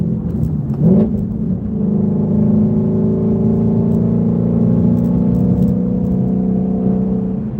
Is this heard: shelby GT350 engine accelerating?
yes